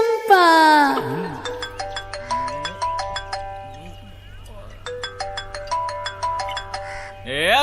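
A melodic phone ringtone plays while a call is being placed, its bright repeating tune cycling twice over a steady low hum, just after a short burst of voice at the start.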